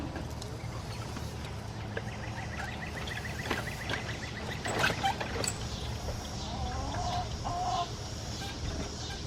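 Chickens cluck and call inside a barn on a wheelchair-accessible homestead, with scattered overlapping clucks and a steady low hum of background noise throughout.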